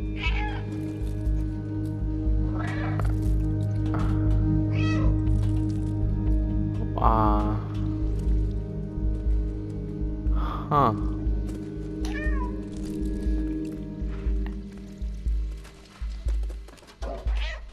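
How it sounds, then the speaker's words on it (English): A cat meows repeatedly in the video game Stray, several short clear meows spaced apart over a steady low hum of game ambience. "Wait, why do I get a meow?"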